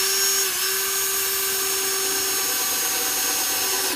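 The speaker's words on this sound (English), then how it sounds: "drill the pilot holes" A power drill boring pilot holes into the wood of a flower box, a steady loud whine running alone for about four seconds with a slight dip in pitch near the start.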